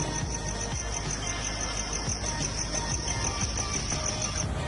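Crickets chirping at night outdoors, a dense, steady, high-pitched trill that carries on without a break, close and fairly loud, with no talking.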